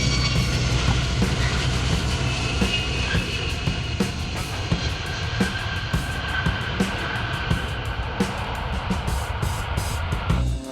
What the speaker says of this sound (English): This is a McDonnell Douglas KC-10 extender tanker flown by an Air Force Reserve Command crew from Travis Air Force Base in California.